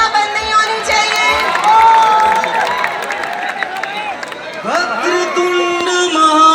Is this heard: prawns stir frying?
no